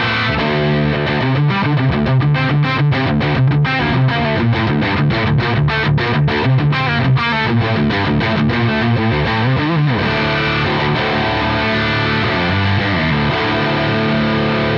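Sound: electric guitar through JPTR FX Filth pedal channel two, distorted

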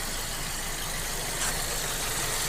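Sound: Volkswagen Golf 5 1.6 petrol engine running after spark plug change

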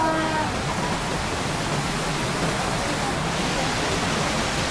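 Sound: Pinlac Falls waterfall, strong rushing current

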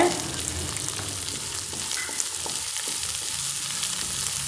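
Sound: sautéing green chillies and curry leaves with vegetables in a pan

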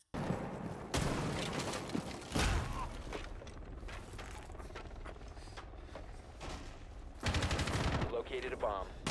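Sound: 417 rifle gunfire in a video game

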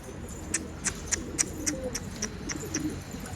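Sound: birds arriving, pigeons cooing

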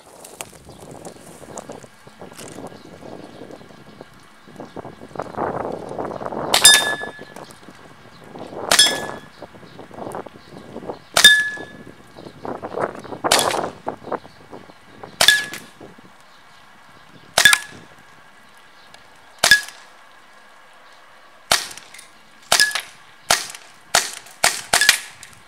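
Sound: airsoft BBs from STTi M9 pistol hitting a beer can

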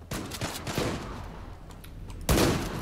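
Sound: gunfire in the video game Zula

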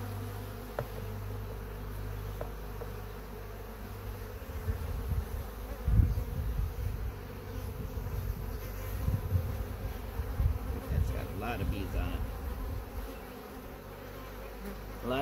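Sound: honey bees buzzing in open hive

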